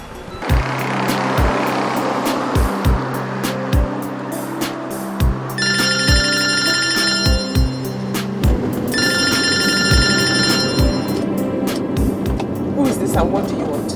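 A telephone rings in two bursts of trilling bell tones over a busy background of rhythmic thumps and music in a Nollywood drama scene.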